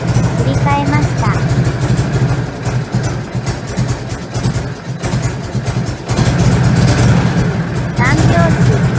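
A Harley-Davidson Shovelhead engine runs on the road with its ignition curve set retarded, giving a loud, steady, low exhaust rumble with a loping, uneven beat that carries through to the end.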